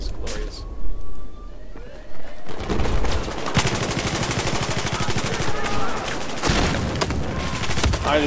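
Intense Battlefield 4 firefight with an RPG hit: a heavy boom opens a dense stretch of rapid machine-gun fire and explosions, loud and continuous, with voices heard among the din.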